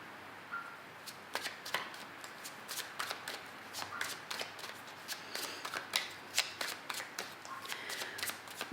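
Seed and Sickle tarot cards being shuffled by hand, a quick run of crisp riffling flicks and soft slaps repeating in uneven bursts, close and fairly quiet against a still room.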